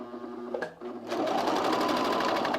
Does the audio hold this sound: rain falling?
no